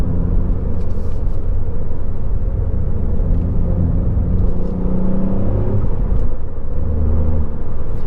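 Ford Fiesta MK8 ST with a Scorpion exhaust driving on the road, a loud steady engine drone and rumble with road noise throughout, no talking.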